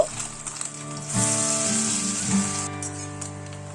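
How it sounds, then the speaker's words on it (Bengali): Small fish (puti) frying in mustard oil in batches, a steady close sizzle and crackle with brief louder spatters, no talk. "মাছগুলো অল্প অল্প করে 2 থেকে 3টে ব্যাচে ভেজে নেব।"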